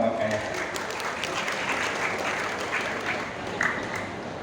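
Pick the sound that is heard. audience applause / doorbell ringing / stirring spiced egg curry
audience applause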